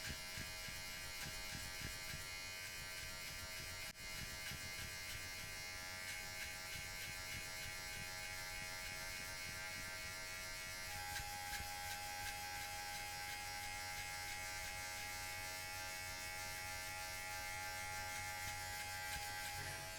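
Electric hair clippers fitted with a number 2 guard buzz steadily as they cut hair during a self-administered buzz cut, a close, constant hum with slight variations in pitch and no talking.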